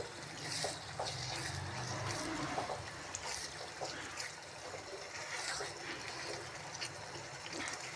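Water splashes and gurgles steadily into a pot of mushroom curry for several seconds, soft and close, with no talking.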